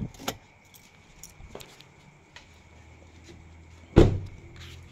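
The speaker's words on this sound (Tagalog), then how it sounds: "I-off natin yung susi, tapos ilalak natin." Car keys on a Ford Raptor F150 jangle in a few short metallic bursts as the ignition is switched off, faint and close, with a louder clatter near the end over a quiet background.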